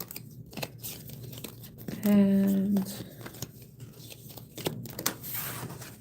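A tarot card deck riffled and shuffled by hand at close range, a crisp papery burst with a low tonal hum, surrounded by softer card rustles and a brief spoken word.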